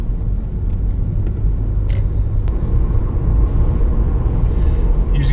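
A Lexus IS250 with a 4GR-FSE 2.5-litre direct-injection V6 pulls along the road, giving a steady low engine rumble and road noise inside the cabin, smooth and even throughout with a few faint ticks and clicks.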